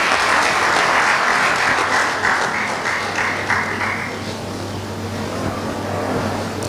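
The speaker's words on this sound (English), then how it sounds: "Please join me in welcoming him with a round of applause." Audience applause welcoming a speaker at a university MoU signing ceremony and one-day workshop: a dense, steady burst of many hands clapping close by, fading slightly toward the end with no talk over it.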